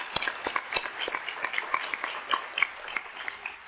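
Conference audience at the 2018 Commonwealth Prevention Alliance gathering applauds in a steady, moderately loud round of clapping lasting a few seconds.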